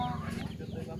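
An F1 hybrid rooster offered for sale, making short clucking calls close by, partly under a man's speech.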